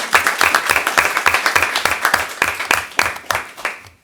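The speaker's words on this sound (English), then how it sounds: "Let's give them a round of applause, even though they're not" Applause at a school board meeting honoring girls basketball award winners, with rhythmic, fairly sparse clapping from a modest audience, individual claps distinct, continuing for about four seconds before ending.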